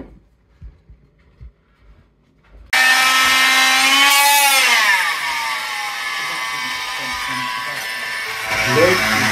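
Putty being scraped out with a fine blade around the soft lead edges of stained glass panels: after a quiet start, a loud, sustained, squealing scrape sets in and continues steadily.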